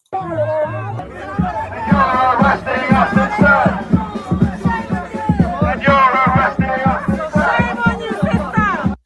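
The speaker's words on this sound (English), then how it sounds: "the Muslim women in the crowd are shouting, "Shame on you, sister,"" A crowd at a pro-Palestine march shouts loudly and rhythmically in unison, a chant of many voices close by with some chatter mixed in.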